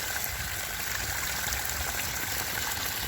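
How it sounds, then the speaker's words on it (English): Water drains out of an irrigation reservoir barrel after a valve is opened, a steady close gushing and splashing that holds constant without pause. "And out comes the water."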